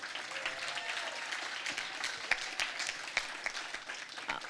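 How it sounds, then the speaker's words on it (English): Steady applause from the audience at a black-tie awards gala honoring a healthcare team, dense and sustained with a few sharper claps standing out, a faint murmur of voices underneath. "So big round of applause."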